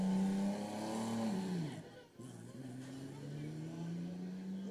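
A Holden-engined race car climbs a hillclimb course, its engine revving hard and loud, dropping away briefly mid-shift before pulling strongly again in a rising drone.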